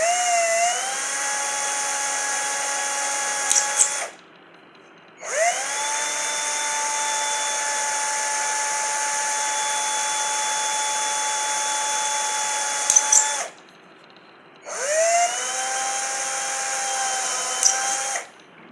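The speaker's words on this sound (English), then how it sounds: "we need to make a few holes with a hand drill carefully" A hand drill bores holes in the plastic cover of an LED bulb, its steady whining run broken by two brief pauses before starting up again, loud and close.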